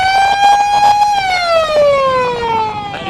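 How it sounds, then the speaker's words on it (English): A long electronic siren sounds for three-quarter time at an AFL women's senior match, a steady tone that bends lower partway through and holds loud and continuous over faint ground noise. "And it's the siren for 3/4 time"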